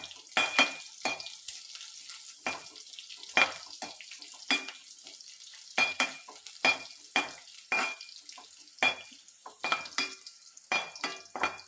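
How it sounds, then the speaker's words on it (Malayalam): Onion, green chili and mustard seeds fry in hot oil in a home kitchen, a steady sizzle broken by repeated sharp crackles and pops, with occasional stirring scrapes, close and moderately loud. "അതിനകത്തോട്ട് ഉള്ളിയും പച്ചമുളകും കൂടെ വറുക്കാനിട്ടത് കടുകിട്ടത്"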